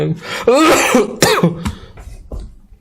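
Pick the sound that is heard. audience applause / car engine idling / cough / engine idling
cough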